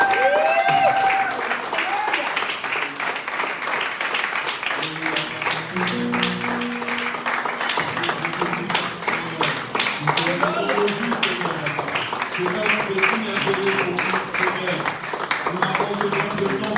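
A church congregation applauds with sustained, dense clapping that carries through the whole stretch, while a voice speaks and music-like tones sound over it.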